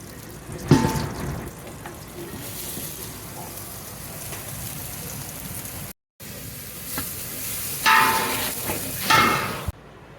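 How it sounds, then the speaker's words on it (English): Shallots and mushrooms cooking in butter in a pot give a soft, steady sizzle, broken by a few sharp clunks of utensils against the pot and brief louder bursts toward the end. "we're gonna heat up our pot, put some butter, and cook them for a couple of minutes without browning them"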